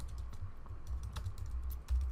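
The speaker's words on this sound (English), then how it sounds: "you can just type whatever you want here" Computer keyboard typing heard up close: a steady run of soft, rapid key taps over a low constant background hum, with no voice.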